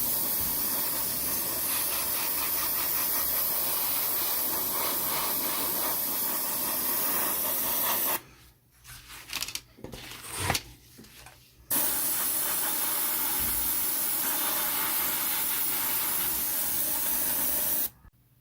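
An airbrush sprays Vallejo Model Air Basic Grey paint onto a Battlestar Pegasus scale model, a steady close hiss in two long bursts separated by a short pause with faint handling noise.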